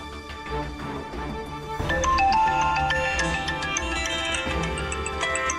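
A phone ringtone with a tonal melodic tune starts about two seconds in and plays on at fairly loud volume over a background hum, in a scene from a Telugu short film.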